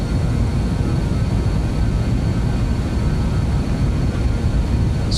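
An airliner's engines at takeoff power in Microsoft Flight Simulator 2020 produce a steady, loud broadband roar with a deep rumble, sustained unbroken throughout.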